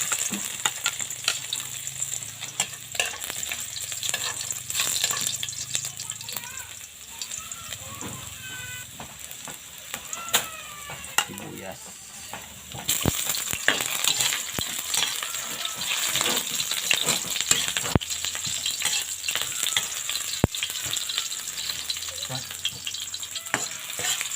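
String beans and garlic sautéing in a pan, a continuous close sizzle with scraping stirs, growing louder partway through.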